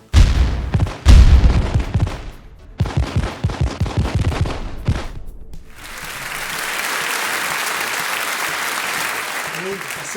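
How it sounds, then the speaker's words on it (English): A rapid string of sharp bangs and pops crackles loudly, like fireworks going off close by, then gives way to a sustained roaring hiss. "we don't even have fireworks at the proper gala dinner. No more explosions."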